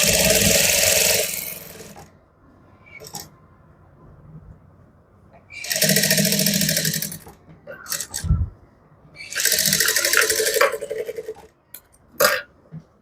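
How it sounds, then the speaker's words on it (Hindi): An electric sewing machine stitches the leg seam of palazzo pants in three loud, sustained runs of a couple of seconds each, separated by quieter pauses with faint handling sounds. "अब आपको क्या करना है, एक पैर की सिलाई इस तरीके से लगानी है इसके ऊपर का।"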